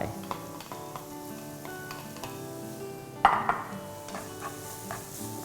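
Garlic and preserved radish stir-fry over low to medium heat in a pan, a soft steady sizzle broken by occasional spatula scrapes and taps against the metal.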